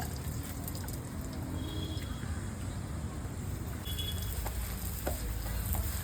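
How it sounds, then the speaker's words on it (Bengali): An egg roll sizzles in hot oil at an outdoor street food stall in a park, a steady low frying hiss under busy background noise with occasional scrapes and clinks. "দেখো এখন রোল ভাজা হচ্ছে বন্ধুরা"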